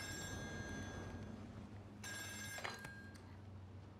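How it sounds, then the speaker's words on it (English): Telephone bell ringing in the horror video game Still Wakes the Deep, a faint distant ring over a low droning background, then a louder burst followed by a short clatter. "Another phone call."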